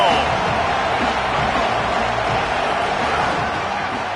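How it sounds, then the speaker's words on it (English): In a Texas A&M college football video game, a stadium crowd roars with a dense, steady wash of cheering that holds at an even, loud level throughout. "This crowd ready to make its presence known."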